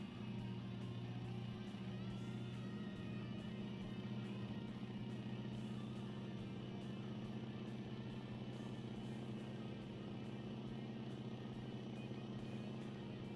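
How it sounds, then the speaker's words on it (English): A 600-horsepower Leon V8 truck engine, likely chipped, in American Truck Simulator drones at a steady, loud low pitch throughout, with no talk over it. "Not a bad little engine."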